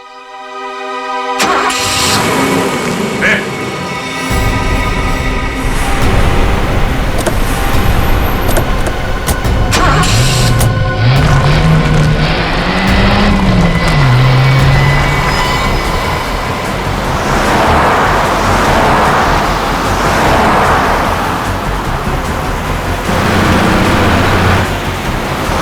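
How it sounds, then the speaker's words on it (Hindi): A car engine starts, then the vehicle races along fast with a loud, sustained roar and shifting engine pitch, heard alone without speech, in a tense drama scene involving a CID vehicle. "गाड़ी बहुत तेज चला रही है।"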